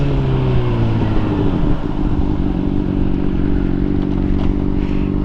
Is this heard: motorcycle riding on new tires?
yes